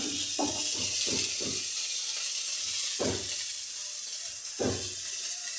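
Capsicum fries in a pan in the steady, bright sizzle of hot oil, broken by several sharp scraping stir strokes in a quick cluster and then two more spaced apart, heard close with no talk.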